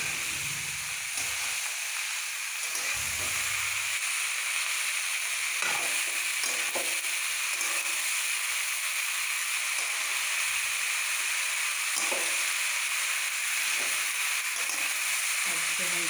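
Bottle gourd curry sizzling and frying in a pan while being stirred, a steady hiss punctuated by intermittent scraping strokes of a spoon against the pan.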